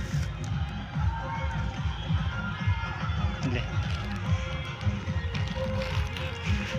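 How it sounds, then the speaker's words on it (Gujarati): A large crowd packs a Ramapir temple festival in Gujarat on the busy Bij day, producing a dense, continuous murmur of many voices with shuffling footsteps close by. "આજે બીજના કારણે ખૂબ જ ભીડ છે"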